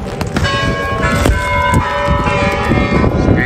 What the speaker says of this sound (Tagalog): witness natin ang pag-ring ng bell nila dito sa Red Square